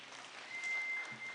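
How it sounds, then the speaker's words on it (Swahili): Applause from a church congregation at a service attended by politicians, a steady wash of clapping that swells in the middle and eases off toward the end, with no voices over it. "Asante, mpigieni makofi tena."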